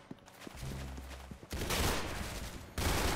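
Bursts of rapid gunfire in the Roblox shooter Arsenal, dense and loud, with a brief pause before the shooting resumes; no talking.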